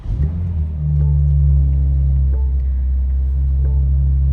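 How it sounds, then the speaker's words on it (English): A BMW G80 M3 fires up on a cold start with its exhaust valves closed, settling into a loud, steady, deep idle rumble close by. "I'm just gonna do a little cold start for you all with the valves closed"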